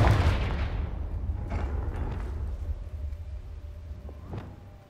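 A Confringo blasting spell goes off in Hogwarts Legacy with a heavy low boom at the start, then a rumbling tail with a few fainter bursts and a sharp crack near the end.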